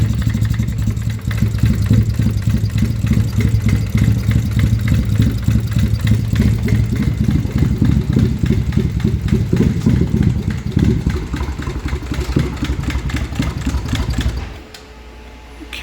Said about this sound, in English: Steven, are we ready to crank this thing over?